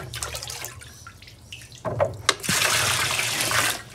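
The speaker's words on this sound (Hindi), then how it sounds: "तो यहाँ से डालते हैं इसके अंदर पानी थोड़ा सा।" Water splashes and rushes as it is poured into a tank, starting with scattered drips and small splashes before a fuller, steady pour takes over near the end.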